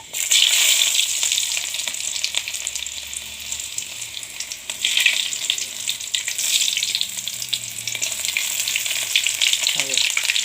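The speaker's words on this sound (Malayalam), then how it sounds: "കടുക് പൊട്ടി കടുക് പൊട്ടി വരുമ്പോഴേക്കും അടച്ചു വെച്ചാണ്" Loud, steady sizzling and crackling of mustard seeds spluttering in hot oil with dried red chillies and shallots, continuous throughout with a few brief stirring clinks near the end.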